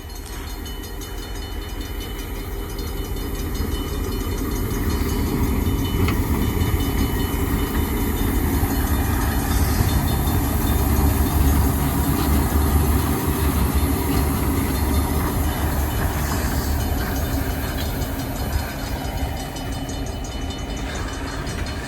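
ELS 400 train rolling south through a crossing in Iron Mountain, a loud continuous rumble of wheels and railcars with steady clatter and faint squeals, close by for the whole stretch without talking.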